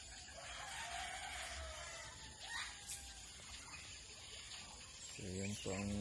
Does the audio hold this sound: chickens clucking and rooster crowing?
yes